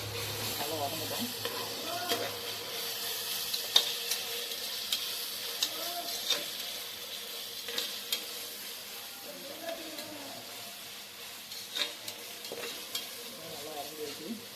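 Ingredients for chicken biryani sauté in a pan with a continuous low sizzle and occasional light scrapes and taps of a stirring spoon, faint and even throughout.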